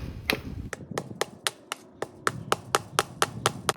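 Steady hammer blows drive staples into a wooden post to fix wire fencing, about a dozen sharp, evenly spaced metallic strikes close by with no talking.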